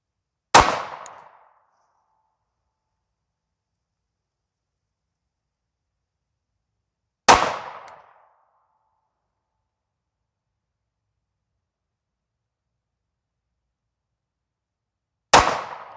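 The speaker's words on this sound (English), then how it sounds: "I'm just going to fire 3, 4, 5 rounds and verify my 10-yard hits" Three loud, sharp pistol shots from a Sig P365XL fitted with a Holosun EPS Carry red dot, fired at a 10-yard target, each crack standing alone with a short decaying echo and several seconds of silence between.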